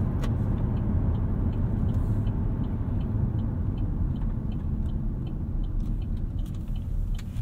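Steady low engine drone and road rumble inside a 2015 Chevrolet Cruze diesel while it drives, a continuous loud cabin hum with no talking.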